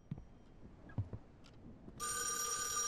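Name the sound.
telephone ringing in a horror video game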